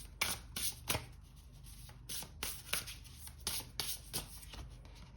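Tarot cards are shuffled by hand in quick, soft riffling bursts, close and quiet, with short pauses between runs and no talk.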